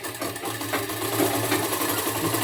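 A sewing machine runs steadily while stitching a blouse, a continuous close whirring hum with a faint mechanical rattle, no voices.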